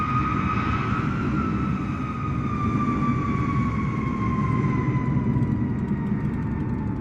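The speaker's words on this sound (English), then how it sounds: "why does it sound like a plane's about to take off into me?" Airplane engine in Microsoft Flight Simulator 2024 spooling up as if about to take off, a loud steady roar with a high whine that slowly falls in pitch, continuous and close.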